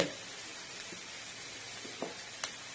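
Spices such as turmeric and asafoetida being stirred into hot oil in a pan for pori upma, giving a steady soft sizzle with a few faint scraping stirs and one sharper clink near the end.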